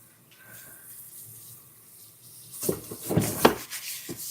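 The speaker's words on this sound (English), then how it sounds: "I gotta wash off my board because if I just leave it, that flour mixture will stick." A kitchen tap runs to rinse flour mixture off a board after rolling out biscuits, starting as a quiet trickle and swelling into a louder splashing gush during the last two seconds.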